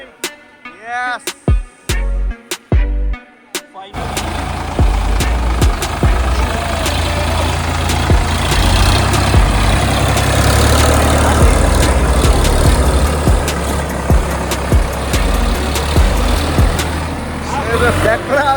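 Tractor engine straining on a rough off-road track, a loud continuous low rumble that runs for most of the stretch after a few short, broken bursts of sound at the start, with people talking nearby.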